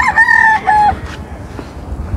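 A Papay Gray brood stag rooster crows once, loud and close, its call ending after about a second and followed by quiet outdoor background.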